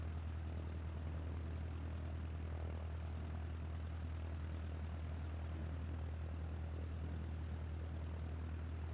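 A propeller airplane engine in a flight simulator game drones steadily and evenly throughout, a constant low hum with no talk over it.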